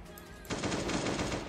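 Rapid automatic gunfire in the mobile survival game Last Day On Earth starts abruptly after a brief quiet moment and continues as a dense, steady burst of shots with no talk.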